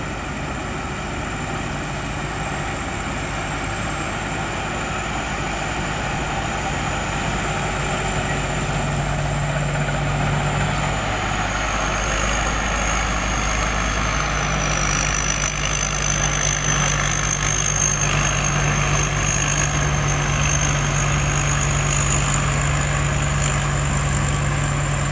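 A Thai farm machine engine from the Pan Charoen workshop revs hard and high, a loud continuous drone with a whining tone that shifts pitch partway through. The engine runs alone, with no voices.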